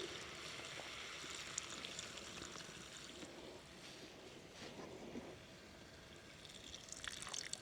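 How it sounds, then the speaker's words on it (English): Water is poured into a cooking pan inside a campervan, over boulanger potatoes with bacon and thyme, giving a faint, steady trickling wash that runs the whole time with no talk. "Now put a bit more water in."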